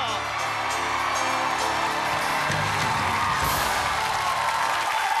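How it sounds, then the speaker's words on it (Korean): A Korean TV comedy studio audience, on the Gag Concert stage, bursts into sustained, loud applause mixed with cheering and whoops, a dense continuous roar of clapping throughout. "박수 부탁드리겠습니다"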